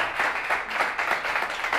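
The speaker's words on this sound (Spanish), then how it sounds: "quiero que le demos un aplauso a Gabriel Carvajal" Audience applause at a Felipe Avello comedy show in Monterrey, Mexico: steady, moderately distant clapping from a crowd, swelling in a few soft waves for about two seconds with no voices over it.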